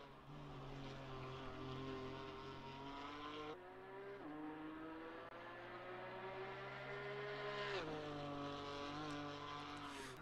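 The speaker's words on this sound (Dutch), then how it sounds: "Ik vind het een vervelend klinkende auto." A GT4 race car engine in a racing video game at Oulton Park, a continuous droning whine that rises through the gears with sharp drops at shifts, steady and alone without voices.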